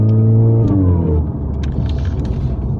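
A Mercedes-Benz 230 Kompressor engine drops in pitch as its automatic gearbox makes a harsh upshift, followed by a low rumbling drone as it keeps driving.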